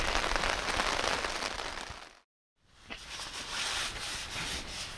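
Rain drums steadily on a camping tent during a bikepacking trip in Italy. The patter is dense, close and continuous, with one brief silent gap before it resumes.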